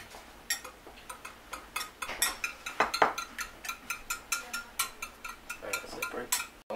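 Eggs with salt and pepper whisked on a plate make a fast, regular ticking clatter of a utensil against the dish, dozens of light evenly spaced clicks, close and moderately quiet, no talking.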